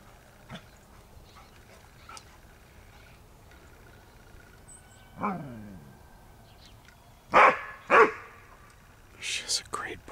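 A dog barks in short loud bursts, a few sharp barks near the end after a lone yelp-like call, with faint whispering and quiet outdoor background between them.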